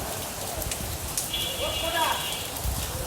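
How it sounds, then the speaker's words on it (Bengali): Steady rain falls outdoors during a commute, a constant hiss filling the whole stretch with a few brief sharper sounds nearby. "বৃষ্টি হচ্ছে"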